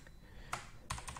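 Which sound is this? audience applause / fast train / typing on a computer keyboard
typing on a computer keyboard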